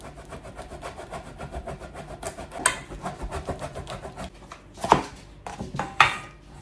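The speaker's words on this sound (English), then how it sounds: "Now we're just gonna grate our Parmesan cheese." Parmesan cheese rubbed against a grater in quick, even rasping strokes, a steady rhythmic scraping at close range with a few louder knocks and scrapes toward the end.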